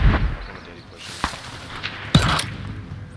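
Gunfire in the video game Warzone Pacific on the Caldera map in trios, a few sharp shots and a heavier burst cracking out over game ambience while players talk.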